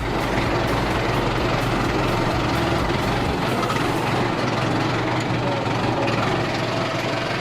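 Used tractor with about 8,000 hours on it, engine running steadily through a test drive, a loud, continuous low rumble with a throbbing beat and broadband rattle that holds level throughout.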